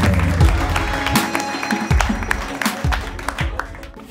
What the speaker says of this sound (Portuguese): palmas para vocês aí que passaram já